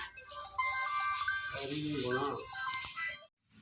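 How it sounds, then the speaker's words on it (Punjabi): A relative's mobile phone rings with a melodic ringtone that plays clearly for about three seconds, with quieter voices underneath before it stops. "ਰਿਸ਼ਤੇਦਾਰ ਦਾ ਫੋਨ ਵੱਜ ਗਿਆ"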